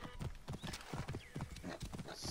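A horse's hooves clip-clopping in the video game Assassin's Creed Origins, a quick, close, rhythmic trot of hoofbeats across a short stretch, with a brief whinny-like sound.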